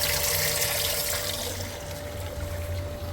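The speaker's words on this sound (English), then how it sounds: "Water running" Small water pump in a homemade live bait tank on a jon boat, recirculating water with a steady splashing trickle and faint pump hum, continuous and fairly close with no talking.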